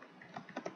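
A few quick keystrokes tapped on a computer keyboard while writing C code, soft and close, in a short irregular burst with no talking.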